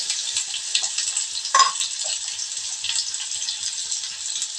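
Cut pieces of potato and ridge gourd frying in a pan, a steady close sizzle with brief stirring scrapes and no talk.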